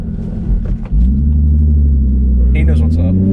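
Low, throaty exhaust rumble from an Infiniti G37S coupe with a VQ V6 and a Motordyne catback, droning steadily while driving and swelling slightly near the end, with voices talking over it.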